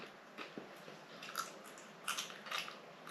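Crispy lamb and mint filo pie bitten and chewed up close, a series of light crackly crunches in short bursts with quiet pauses between.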